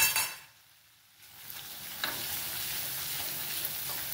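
Roasted sesame seeds, about two spoonfuls, drop into a frying pan of coriander greens and set off a steady sizzle with brief stirring scrapes after a short quiet gap, close and moderately loud.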